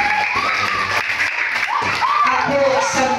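A class of third-grade schoolchildren applauds together in a classroom, steady clapping blended with children's shouts and chatter throughout, fairly loud and close.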